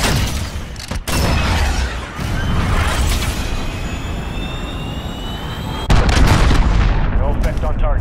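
A missile launched from a helicopter in Call of Duty Modern Warfare, a loud whooshing roar with jet-like rumble and booming blasts, a sharp cut then a heavier burst of noise near the end.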